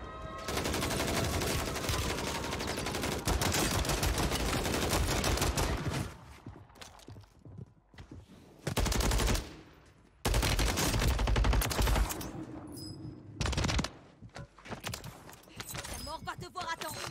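Rapid bursts of automatic gunfire from an SOA Subverter rifle in a first-person shooter, loud and close, broken by short pauses, with a French-speaking voice talking over parts of the action.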